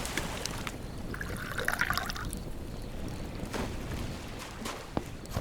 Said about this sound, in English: let's fill up this bowl